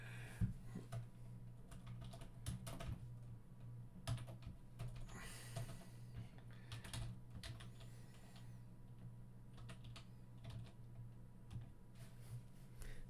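Fingers tap quick, light clicks on a computer keyboard, close and quiet, in uneven bursts with brief pauses between runs of keystrokes, over a low steady hum and no talking.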